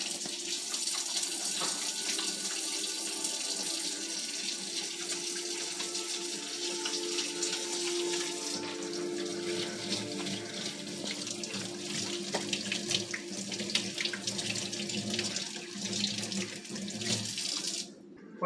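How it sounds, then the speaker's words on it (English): Warm water runs steadily from a kitchen tap into a sink for handwashing, a continuous close hiss and splash that shifts as hands move under the stream, with no talk. "you should wash your hands. So you want warm water,"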